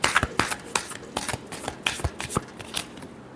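Tarot cards shuffled by hand up close, a quick run of crisp riffling flicks and slaps in irregular bursts over about three seconds, with no talk.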